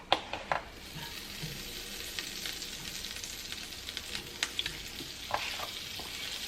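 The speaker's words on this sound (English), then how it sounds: "I'm going to just put one of my dollops of garlic butter into the pan. I'm going to let that melt just a little bit." Garlic butter melting in a hot pan, a steady soft sizzle and crackle with a few sharper pops and stirring scrapes, close and without talk.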